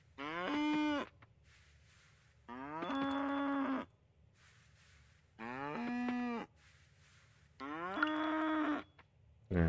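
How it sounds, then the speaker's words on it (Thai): Cow in the farming game Coral Island lowing four times in long, drawn-out moos separated by short pauses, clear and close with a faint ambient background and no talking. "หาน้องวัว"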